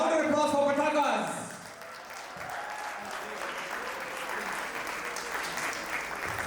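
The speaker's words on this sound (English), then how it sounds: "Louder applause for Patakas!" A crowd at a cricket store event in the US breaks into a burst of applause after a man's loud call, and the clapping continues steadily as a moderate wash of sound.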